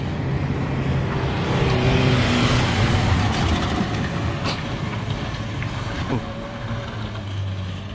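A car climbs the steep road up Jabal Nur toward the Hira cave, its engine and tyre noise a steady, fairly close rumble that fills the whole stretch without any talk.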